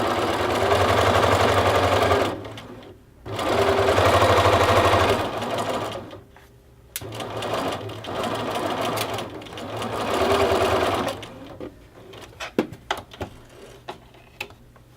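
A sewing machine stitches a seam on a knit jacket sleeve, running in several loud, steady whirring bursts with short pauses between them, followed by a few sharp clicks and handling noises.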